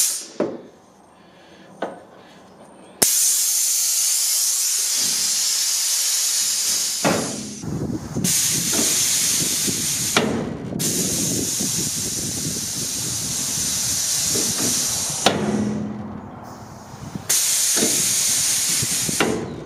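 Air control valve on a homemade air system in a 1977 Peterbilt 359 motorhome, hissing in loud broadband bursts that switch on and off several times, with short quieter gaps between releases.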